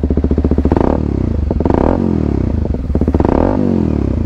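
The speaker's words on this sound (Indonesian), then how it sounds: "Oke, kita narik gas dulu." A Kawasaki Ninja 250 single-cylinder with a Bram exhaust is revved hard three times up close, each throttle blip rising to a raspy roar and dropping back to a burbling, crackling idle.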